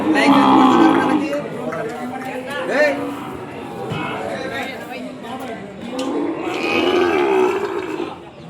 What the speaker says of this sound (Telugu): ఇక్కడ ఇంకా దూడలు ఉన్నాయి ఫ్రెండ్స్